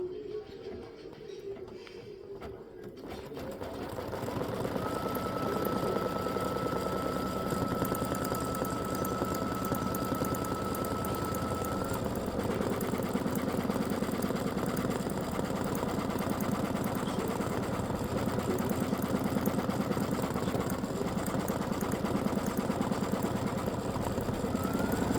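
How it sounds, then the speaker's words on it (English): A computerized embroidery sewing machine stitches stripes on fabric in a steady, fast mechanical whir that starts after a few quiet seconds and runs on loud and even. "So that's color stop number 13, getting ready to stitch to do the stripes."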